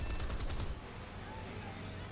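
Hispano cannons firing from a fighter plane in the War Thunder game, a rapid loud burst of booming shots for under a second, then a steady engine roar.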